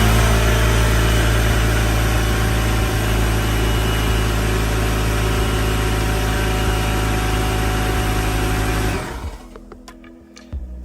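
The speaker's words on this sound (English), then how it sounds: "So I'm just gonna run the compressor" An air compressor runs off a portable power station, making a loud, steady motor hum and whine that continues unbroken for about nine seconds, then cuts out, leaving quieter room sound with a few faint knocks.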